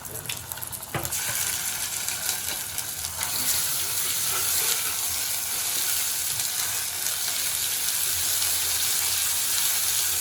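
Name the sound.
ginger garlic paste sizzling in oil for misal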